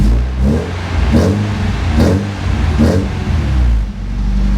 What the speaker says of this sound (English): I can hit the throttle